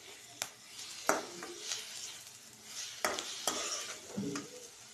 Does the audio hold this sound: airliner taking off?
no